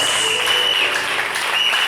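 A church congregation applauds in a dense, steady burst of many hands clapping together, loud and close, with a faint voice or cheer mixed in and no pause.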